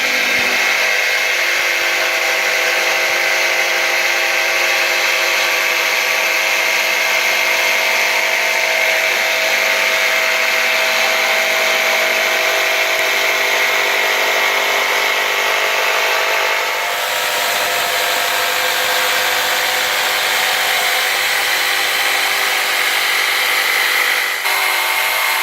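A Würth jigsaw cuts a board, its blade buzzing loudly and continuously for the whole stretch, with a brief change in tone partway through the cut.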